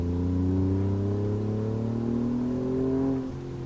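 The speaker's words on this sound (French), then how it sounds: "Il chante bien ce petit V6 hein." An Alfa Romeo Giulia Quadrifoglio V6 revs up loudly and steadily under acceleration, its engine note climbing smoothly for about three seconds before easing off, with no talking.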